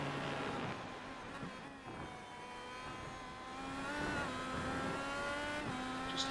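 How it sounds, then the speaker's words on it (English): IndyCar engine in iRacing at Red Bull Ring, a high-pitched whine climbing to maximum revs and dropping back repeatedly with gear shifts, steady and continuous on board, no talk. "Just hear that oversteer start in turn 1. Those RPMs hit their maximum and come back down."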